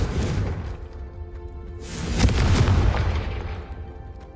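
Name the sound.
Confringo blasting spell explosion, from a video game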